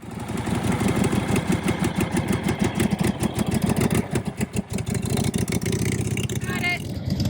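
A 1949 Harley-Davidson Panhead motorcycle engine runs close and loud with a rapid, uneven lumpy firing pulse that holds steady throughout, briefly stumbling partway before settling back into its idle.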